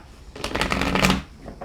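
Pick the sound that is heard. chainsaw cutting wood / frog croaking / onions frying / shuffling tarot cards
shuffling tarot cards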